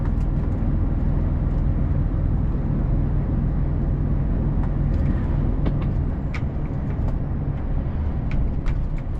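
A Mercedes 2548 truck drives at speed and eases down to around 40 under its own control, giving a steady loud low rumble of engine and road noise with faint brief hisses on top and no talk.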